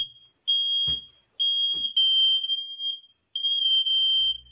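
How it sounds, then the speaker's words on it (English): Smoke-type fire alarm blares in long, piercing high-pitched bursts separated by brief gaps, with a couple of dull knocks between bursts and no talk. "His quest to turn off the fire alarm, and he set off another one."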